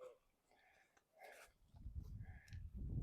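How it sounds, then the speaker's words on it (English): Sheep on a farm give a couple of short, faint bleats early on, followed by louder low rustling and movement noise close by. "Come on, sheep, sheep."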